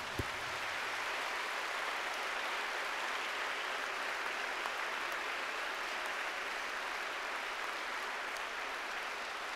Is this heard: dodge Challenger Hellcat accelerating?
no